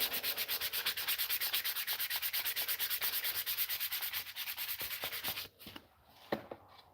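Rapid, rhythmic back-and-forth strokes of 220 grit sandpaper rub over a custom brush guard for a Volvo XC70, close and even before stopping, followed by a few scattered scrapes.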